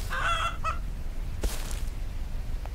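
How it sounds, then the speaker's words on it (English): A fowl in the video game Rust gives a short burst of honking, goose-like clucks at the start, followed by a faint thump and scattered soft noises in a quiet setting. "Oh, chicken! Chicken, is that you?"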